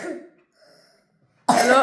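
Coughing indoors amid spilled flour, a muffled cough at the start followed after a pause by a sudden, loud, harsh cough burst close by, with no speech.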